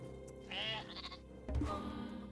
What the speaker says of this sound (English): Ooh, I have sheep.